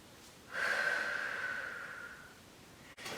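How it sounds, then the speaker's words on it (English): A single long, audible inhale during a relaxing evening stretching workout starts sharply, fades over about two seconds, then another breath begins. "So let's take a breath here"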